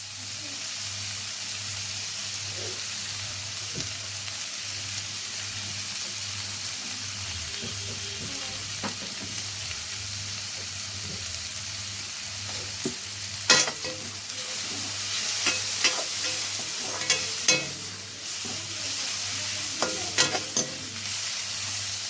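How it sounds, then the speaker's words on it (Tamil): Onions sauté in a pan with a pinch of asafoetida for a macaroni veg biryani, giving a steady soft sizzle throughout, with scraping stirs and clinks growing busier toward the end. "வெங்காயம் நல்லா வதங்கட்டும்."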